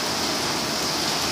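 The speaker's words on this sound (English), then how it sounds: "Now it's just rain." Steady rain falls outdoors during a storm in Sun City, Arizona, a dense, even hiss of drops on surfaces, close and continuous.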